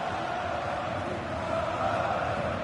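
Steady roar of a stadium crowd in the FC24 football video game, a dense continuous murmur with a faint rise of cheering toward the end, no voices over it.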